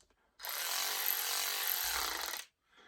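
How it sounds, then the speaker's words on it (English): An electric Snap-on power tool runs in a single loud, steady burst of about two seconds while tightening bolts on a Porsche Boxster engine during a 2.5L to 2.7L swap, ending abruptly, with no talking. "This electric snap-on, sometimes I feel like it'll take lug nuts off"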